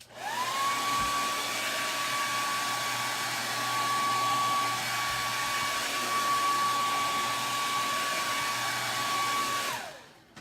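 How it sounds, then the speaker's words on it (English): A hair dryer runs steadily and loudly while blow-drying a handmade welcome sign, giving a constant whirring rush with a steady whine that holds for about ten seconds before it cuts off. "I'm going to blow dry this side."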